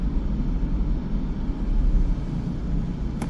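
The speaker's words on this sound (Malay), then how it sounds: "Boleh dengar bunyi bas." A bus passes on the road outside a 2025 Lexus LBX with the window lowered, a steady low rumble of engine and tyre noise swelling gently and holding without talk.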